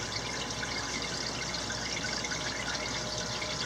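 Water flowing through a siphon hose during an aquarium water change, a steady, even rush of running water, close and continuous with no talk.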